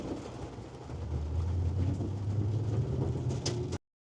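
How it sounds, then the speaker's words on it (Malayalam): Heavy rain pours while a vehicle is being driven, a dense continuous wash over a low steady rumble that holds for nearly four seconds before cutting off abruptly; no one speaks. "ഇത് നല്ല മഴ,"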